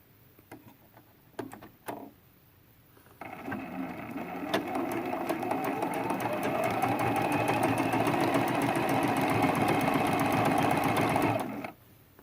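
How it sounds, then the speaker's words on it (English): Sewing machine stitching a quarter-inch quilt seam, starting with a few clicks and handling taps, then running steadily for about eight seconds with a loud mechanical whir and rapid needle ticking before stopping. "Line that up with the raw edge and sew our 1/4 inch seam."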